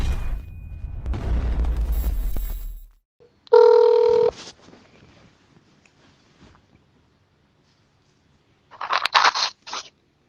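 Outgoing telephone call ringing back: two distinct, loud bursts of electronic ring tone separated by silence, following an opening stretch of rumbling noise.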